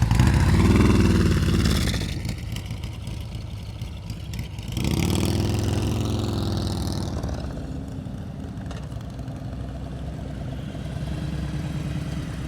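Nearby motorcycle engine during slow-speed riding practice, revving loudly at first, dropping to a lower steady drone, then surging again as the rider works the clutch friction zone.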